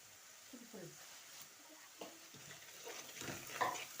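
Onions frying in a pan for a meatless home-cooked stew, a soft steady sizzle with a few clinks and stirring scrapes, under a low murmur of voices.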